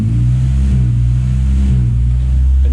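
A turbocharged Toyota Starlet 4E-FE engine revs at sustained high speed, a loud, steady droning tone with small dips and wavers as it begins to stumble and break up.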